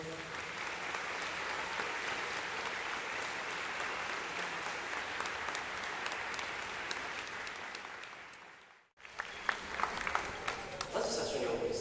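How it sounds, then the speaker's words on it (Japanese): An audience at a Swiss-Japanese international exchange concert applauds in a long, dense, steady burst that fades out around eight seconds, followed by a quieter scattering of claps and a voice. "カフェ音楽院の皆様にもう一度盛大な拍手をお願いいたします。"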